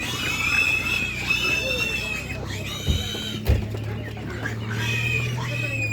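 Hens at a poultry market cluck and squawk in bursts against a busy crowd, with people talking throughout and a couple of sharp knocks.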